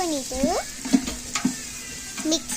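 Ginger garlic paste is stirred into browned biryani masala in a pan, with soft scraping and a light sizzle under a voice speaking over it in short, uneven bursts.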